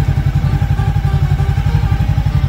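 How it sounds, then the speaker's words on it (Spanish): A motorcycle engine idles loudly and close by, a steady low pulsing throb with no talk. "la Gaby preparándose para el viaje en moto"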